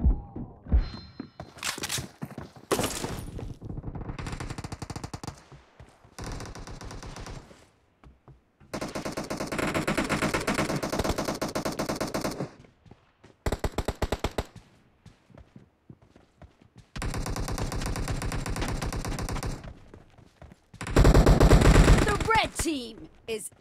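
Bursts of automatic gunfire from the PUBG battle royale video game, loud rapid volleys repeating in several separate clusters with short quiet gaps between them, no talking over the shots.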